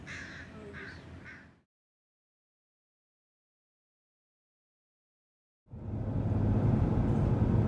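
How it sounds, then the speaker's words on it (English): A crow caws harshly while harassing an eagle outdoors on a hiking trip near Silverdale. A few loud caws come first, then a long silence, then a burst of rumbling wind or traffic noise. "And I got a crow harassing him."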